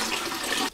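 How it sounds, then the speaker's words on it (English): Water poured from a bucket into a fish tank, a steady rushing, splashing pour lasting most of the moment, close and fairly loud, stopping abruptly near the end. "We have no other way but to use a balti. Pour it with a bucket."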